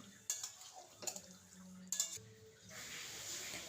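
Mutton being stirred with spices in a cooking pot, a few soft scraping and clinking stirs followed by a lid-like clink, quiet and close, then a low hiss of cooking.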